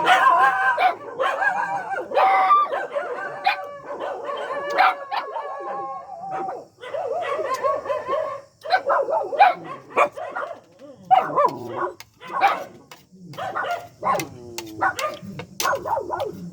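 Several dogs bark repeatedly in uneven bursts, mixed with yips and a few whimpers, fairly close and continuous throughout.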